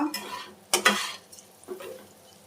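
Bitter gourd frying in a pan, a soft background sizzle with a few close clanks and scrapes of a spoon stirring against the metal, irregular and brief, no voices.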